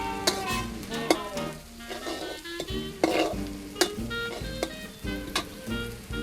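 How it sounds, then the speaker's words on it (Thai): Chopped fresh chili stir-fried in a pan over low heat, with a steady soft sizzle broken by sharp repeated scrapes and taps of a spatula against the pan, close and without voices. "ใช้ไฟอ่อนผัดไปให้มันหอมนิดนึง"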